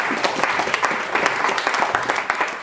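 A church congregation claps and cheers in loud, dense applause with sharp individual claps throughout, steady and close.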